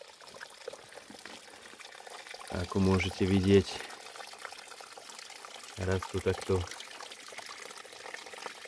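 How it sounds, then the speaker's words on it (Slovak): A small mountain stream in the Kysuce region flows with a steady, close trickle under a man's speech, which comes in two short bursts. "v tom horskom potôčiku."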